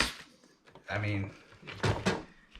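A bottom overflow drawer loaded with loosely tossed knives slides open in a kitchen-style storage setup, giving a couple of short rattling scrapes at moderate level.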